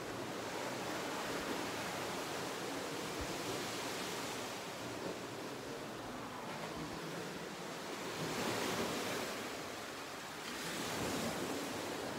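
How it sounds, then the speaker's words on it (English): Ocean waves break steadily on the shore of the village of Klima on Milos, Greece, a continuous broad wash of surf with swells rising around the middle and end, no voices present. "All you're gonna hear is waves, ocean waves crashing on the shore"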